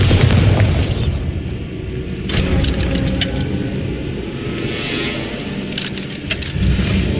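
Spell explosions from a magic bolt in Hogwarts Legacy go off in a loud, close burst and then leave a rumbling, crackling wash of debris. Sharp bright transients land about midway, and no one speaks.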